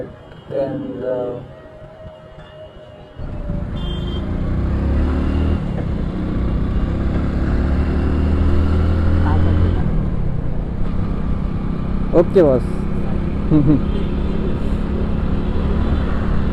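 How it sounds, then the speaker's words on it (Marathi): Heavy road traffic jam in Loni, Pune, with car and motorcycle engines idling and revving nearby, a brief clatter and horn-like tones, while someone talks over the steady rumble. "भाई कसला ट्रॅफिक जाम झाले इकडच्या साईडचं"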